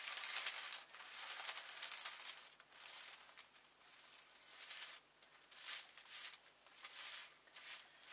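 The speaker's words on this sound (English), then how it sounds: "The pattern I'm going to use, I'm going to cut it from the side." Scissors snipping through a piece of felt, with a series of soft, close, irregular cutting crunches and rustles, faint and quiet with brief pauses between strokes.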